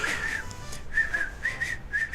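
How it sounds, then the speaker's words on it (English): Someone practising whistling produces a string of short, breathy, slightly wavering notes, a few separate phrases heard close and alone with no talk. "I'm trying to get good at whistling"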